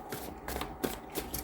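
Tarot cards are shuffled by hand, giving soft papery riffling and flicks at a faint, close level. No voice is heard.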